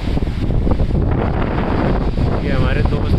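Vasudhara waterfall near Mana village in the Badrinath area, a loud continuous broadband roar of falling water with wind buffeting the microphone and voices mixed in.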